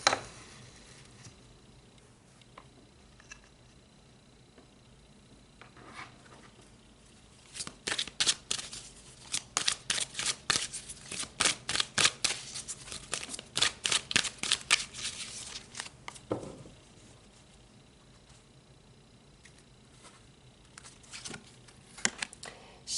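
Oracle cards being shuffled and pulled from the deck during a Capricorn reading, with a quiet stretch giving way to a dense run of rapid, crisp riffling snaps, then a few scattered soft card flicks close by, without talking.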